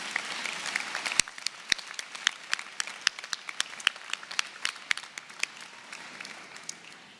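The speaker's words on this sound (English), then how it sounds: "Can we please get a round of applause for our Bachelor of Arts graduates?" Audience applause for Bachelor of Arts graduates at a 2019 university commencement ceremony: a steady crowd of many hands clapping, with sharp individual claps standing out throughout.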